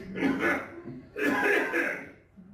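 Two bursts of harsh, throaty coughing or throat clearing, close up, separated by a short pause, with no words spoken.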